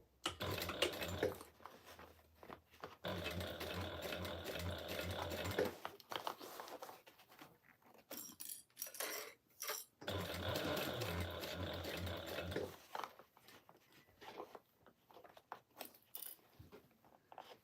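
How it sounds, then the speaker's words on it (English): Sewing machine stitching a seam on a Valentine's heart project, several bursts of rapid mechanical whirring separated by short pauses and quieter handling clicks, close but fairly soft. "Still sewing it with the gusset side up"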